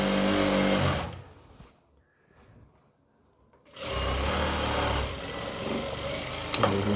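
A sewing machine stitches the lining of a kalidar short kurti, running in a loud, steady whir, stopping for a couple of seconds of near silence, then starting again and running on.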